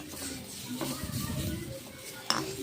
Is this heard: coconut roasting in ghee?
yes